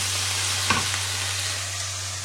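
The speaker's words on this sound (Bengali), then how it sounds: "শাকটা একটুখানি ভেজে নিব।" Leafy greens fry in a pan with a steady, close sizzling hiss over a low constant hum, broken by one brief stirring clatter near the start.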